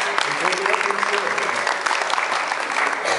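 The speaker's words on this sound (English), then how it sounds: "let's give them a nice round of applause for their care" An audience applauds board members and volunteers at a family-focused awards ceremony, with dense, sustained clapping filling the room while a voice carries on over it.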